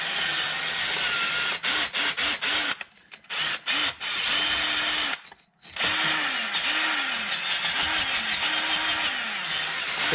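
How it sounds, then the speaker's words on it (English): A handheld drill spinning a wire brush over a rusty brake disc on an Evo 8, loud abrasive whirring that rises and falls in pitch as the brush is pressed and lifted, with a few brief pauses. "So I'm gonna go get my drill and wire brush, and we'll just give it a quick clean up."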